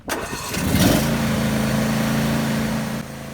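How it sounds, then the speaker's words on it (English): A John Deere E130 riding mower engine cranks and catches, then settles into a loud, steady, close-up idle drone for a few seconds before it cuts off abruptly. "sitting on the tractor, I'll push down on the brake and start the engine"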